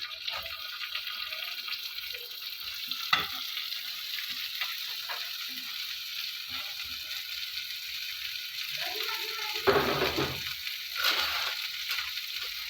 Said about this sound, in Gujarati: મરચું શેકાયા પછી એમાં નાખીશું ભીંડા,